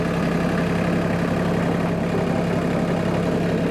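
A Mahindra Max 26 XLT tractor with a 5-foot Mahindra Mtill 150 tiller on the PTO runs steadily and loudly up close, with a continuous low diesel drone and a constant rumble.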